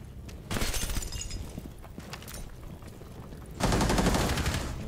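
Gunfire in the shooter game Rainbow Six Siege: two loud bursts of rapid shots, one early and one near the end, with scattered single cracks and debris clatter between them.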